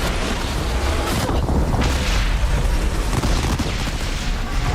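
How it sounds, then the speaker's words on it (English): A smoke bomb detonates in Horizon Zero Dawn Remastered on Ultra Hard, a dense, continuous burst of hissing and booming noise filling the whole stretch, loud and close amid chaotic combat. "Smoke bomb? Smoke bomb? I knew that was coming."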